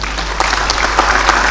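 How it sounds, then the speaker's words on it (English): An audience at an African Union Commission chairperson debate in Addis Ababa applauds, a loud, dense, steady wash of clapping from a large crowd. "I ask that you give them another round of applause."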